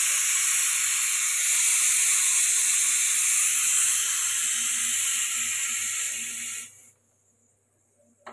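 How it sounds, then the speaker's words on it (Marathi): A pressure cooker is opened after cooking soybean curry at home, releasing a loud, steady, high hiss of escaping steam that lasts several seconds and then cuts off abruptly into near silence. "त्याला आता आपण कुकर खोलूया."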